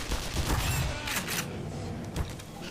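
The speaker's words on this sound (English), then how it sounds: "Oh my god, that was a grenade." A grenade explosion in the game Black Mesa, heard as a loud, rumbling blast with crackling debris and mechanical clatter that fade over a couple of seconds.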